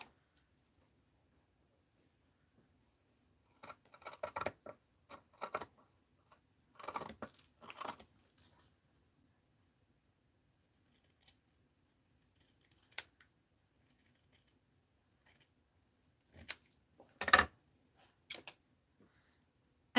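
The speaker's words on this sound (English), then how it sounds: "I'm just going to cut a little strip off of here." Scissors snip through a strip of paper in scattered clusters of sharp, close cuts, separated by long quiet stretches, with no talking.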